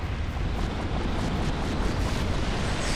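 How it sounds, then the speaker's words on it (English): A Chaos Witch's fire attack roars in a Dark Souls game, a dense, continuous whooshing blast of flame that stays loud and rumbling for the whole stretch. "There goes more fire."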